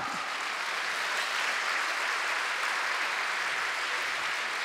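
A studio audience at a Slovenian regional radio folk-music show gives a singer sustained, dense applause, even and continuous throughout, with many hands clapping at once.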